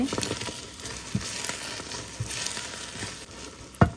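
Sticky rice cake mixture being stirred and dried in a hot pan, a continuous loud sizzle with scattered scraping knocks from the spoon, one sharper clunk near the end, no speech.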